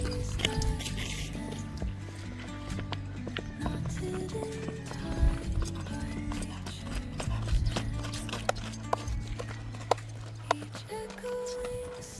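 A Kathiawadi horse's hooves clip-clop in scattered, irregular knocks alongside wet splashing and squishing sounds, with people talking and humming machinery underneath.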